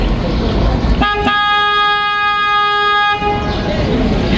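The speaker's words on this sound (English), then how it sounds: "I'm gonna honk my horn twice here" A single loud, sustained boat horn blast on the San Antonio River Walk sounds for about two seconds amid background noise, preceded by a brief short toot.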